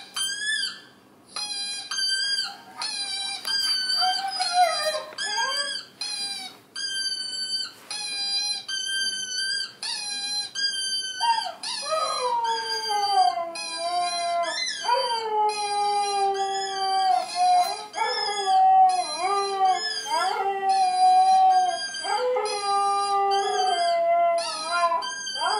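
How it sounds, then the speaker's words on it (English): Siberian husky howling, a long series of rising and falling wavering howls with short breaks between them, loud and close, with no talk over it. "a video by Haleona called Siberian Husky Howling"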